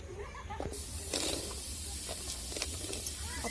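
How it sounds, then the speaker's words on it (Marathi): Onions sauté in a pan for chapati poha with a continuous hissing sizzle and scattered crackles and stirring scrapes. It sounds close and moderately quiet, with a low background hum. "एकदा कांदा चांगला परतून घेते"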